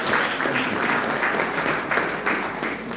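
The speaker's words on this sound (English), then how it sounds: "Give him a round of applause." An audience applauds steadily throughout at a Gaur Purnima festival celebration, a dense, even wash of clapping with no clear voices above it.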